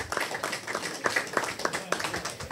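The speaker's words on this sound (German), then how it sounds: "Darauf nochmal einen großen Applaus für den großen Kampf hier heute" Scattered applause for an ice hockey team after a hard-fought match, with irregular claps from a modest crowd that stay fairly steady and moderately loud throughout.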